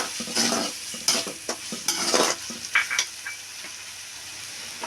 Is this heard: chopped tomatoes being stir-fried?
yes